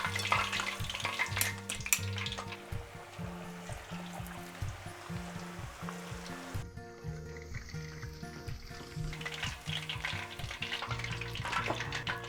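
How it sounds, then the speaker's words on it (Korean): Kkanpunggi chicken pieces sizzle in hot oil during a second frying, a continuous bubbling crackle with scraping stirs over a low hum. "한 번 더 튀겨줄 거야."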